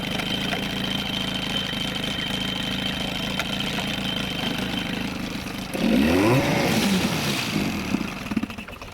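A boat engine with a choke problem idles steadily, then its note swells and rises sharply for a few seconds before settling back, heard close and alone.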